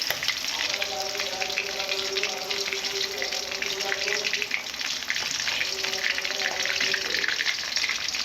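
Pieces of meat fry over low heat in a pan, a continuous crackling sizzle with a watery hiss, steady and close, with faint tonal sounds drifting in and out beneath.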